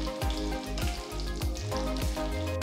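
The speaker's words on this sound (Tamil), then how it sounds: "1/2 டீஸ்பூன் கடுகு, 1 டீஸ்பூன் சீரகம், 1 டீஸ்பூன் சோம்பு, 1 டீஸ்பூன் மிளகு, 2ஆ உடைச்ச 3 சிவப்பு மிளகாயை சேர்த்து நல்லா வறுத்துடுங்க" Mustard seeds, cumin, fennel, black pepper and broken red chillies roast in a hot pan with a steady close sizzle, broken by a few soft stirring scrapes, and no voices.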